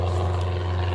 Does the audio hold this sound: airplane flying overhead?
yes